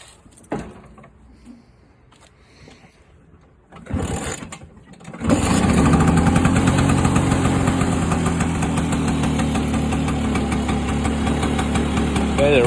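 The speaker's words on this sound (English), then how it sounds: "2-stroke engine, 6 volts." A vintage 6-volt, gravity-fed two-stroke Vespa scooter, an original DC police machine, is quiet at first with faint handling sounds, then fires up around five seconds in and settles into a loud, steady, buzzing idle close by.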